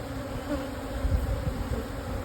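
Honeybees swarm around an open hive, humming in a dense, continuous drone that is close and steady with slight swells, and no voices.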